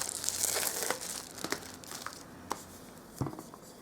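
Sheet of foil vinyl being handled, giving a run of soft crinkles and crackles with sharper snaps near 1.5, 2.5 and 3.2 seconds, close and fairly quiet, with no talking.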